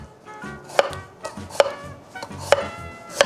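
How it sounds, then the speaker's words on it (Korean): A knife cuts a peeled raw Korean melon (chamoe) into thin strips, four sharp, close chops landing in a steady rhythm over soft board contact between them. "참외를 아주 얇게 채 썰어주세요."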